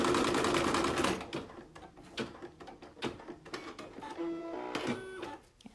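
An embroidery machine whirs loudly and then shifts its needle head with a series of mechanical clicks, short motor runs and soft thumps, close by.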